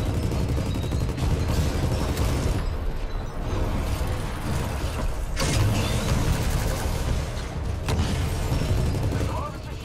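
Mortar fire in Titanfall 2 during a Frontier Defense match, with a Monarch titan defending a Harvester, rumbles as a dense, continuous din of explosions and mechanical noise, with a sharper blast near the middle and a voice talking over it.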